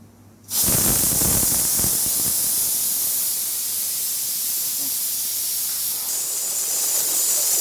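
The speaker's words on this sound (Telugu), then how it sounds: "కుక్కర్లో స్టీమ్ స్టార్ట్ అయిందండి" A pressure cooker on a home stove releases steam in a loud, continuous close hiss that starts abruptly after a brief quiet moment and holds steady to the end.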